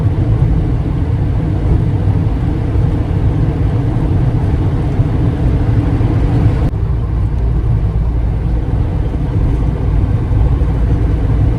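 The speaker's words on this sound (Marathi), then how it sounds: "मजबूत गाडी मस्त पळवते." A truck engine drones steadily while driving along a smooth cement highway in Rajasthan, a loud continuous low rumble with road and wind noise and no pauses, and a slight shift in tone partway through.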